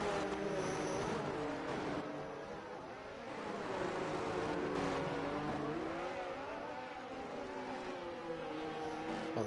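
An AlphaTauri Formula 1 car in a racing game screams past at Miami, its engine pitch rising and falling as it goes by, loud and close.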